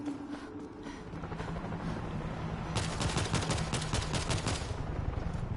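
Heavy machine gun blasting in World War Z on a hard New York level, a dense rapid burst that swells in the second half over a steady bed of game noise and effects.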